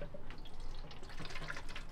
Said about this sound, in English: So you open up the main chamber, and then we'll pour the rumbo in.